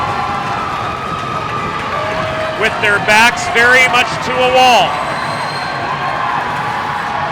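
Crowd at an ice hockey championship game at Fred Rust Arena cheering and shouting, swelling midway into a loud burst of cheers and whoops, with a commentator talking over it throughout.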